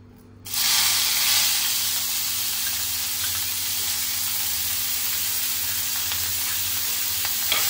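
Paneer pieces hit hot ghee in a pan with a sudden onset, then settle into a steady, loud, dense sizzle that holds without pause, with no voices over it.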